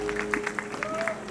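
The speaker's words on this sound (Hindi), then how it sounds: "तो बहुत जोरदार तालियां" Brief applause from a crowd at a Ramleela festival youth gathering, a short burst of scattered, moderately close clapping with a faint tonal hum and a voice-like pitch glide over it.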